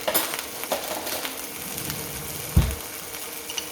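Small bits of onion frying in a pan, a soft steady sizzle at close range with a couple of light clunks of a utensil against the pan.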